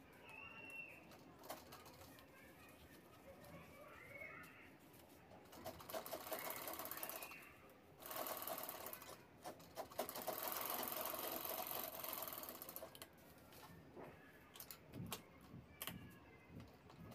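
A sewing machine stitching the side seams of a fabric shopping handbag, running in several bursts of rapid whirring with short pauses and handling clicks between, quiet and close.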